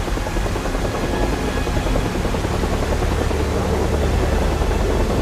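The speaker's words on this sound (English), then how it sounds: "Helicopters try to rescue those who've been stranded." A helicopter's rotor drones steadily and loudly throughout, a dense continuous roar with no voices.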